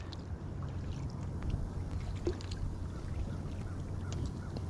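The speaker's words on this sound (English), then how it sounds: "And I'm back paddling." A kayak being paddled backwards on open water, with fishing rod and gear set up in front: a steady low wash of water and faint paddle dips run continuously, with no speech.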